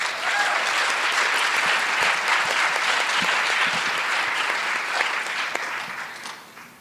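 An audience at a talk on revolution and social change applauds steadily to welcome a speaker, a full, sustained round of clapping that holds level and then tapers off toward the end.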